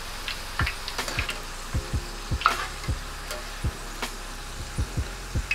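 Food fries in hot oil in a skillet with a low, continuous sizzle, broken by repeated sharp clicks and clinks of a utensil against the pan at an uneven pace.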